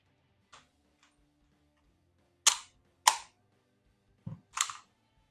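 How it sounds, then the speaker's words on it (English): A toy revolver blaster, a Voisky Speed Max Wingman knockoff, has its cylinder pushed shut and its casings ejected. Several sharp plastic clacks and snaps sound close up, with a few fainter clicks before them and no talk. "When you push the cylinder together, right there, it makes the casings fall out."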